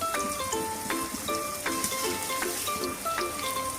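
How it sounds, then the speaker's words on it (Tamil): Paneer cubes frying in hot oil for paneer biryani, a steady close sizzle with faint stirring clinks alone. "இப்போ எண்ணெய் நல்லா சூடானதும் பன்னீரை போட்டு 2 பக்கமும் நல்லா ஃப்ரை பண்ணி எடுத்துக்கோங்க."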